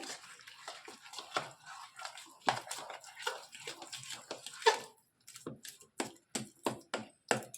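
Water goes little by little into a bowl of semolina and yogurt dosa batter in short, faint splashing bursts separated by brief pauses.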